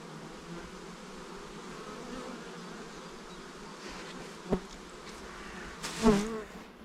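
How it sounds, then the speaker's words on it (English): A steady, soft hum of many bees buzzing nearby, with a couple of louder buzzes as individual insects pass close. "We see some bees coming in with bright yellow pollen."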